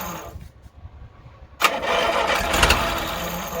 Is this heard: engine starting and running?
yes